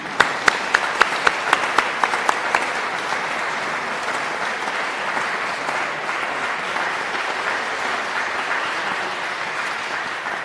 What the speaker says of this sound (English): I want everybody to give him a round of applause because he's next.